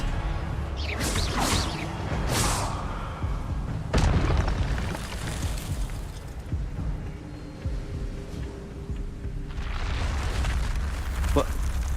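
Expelliarmus spell blasts in Hogwarts Legacy, sharp booming bursts with whooshing sweeps, several in quick succession and one heavy impact, alongside a voice shouting spell names.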